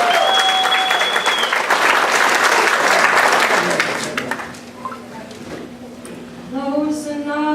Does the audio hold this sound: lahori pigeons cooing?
no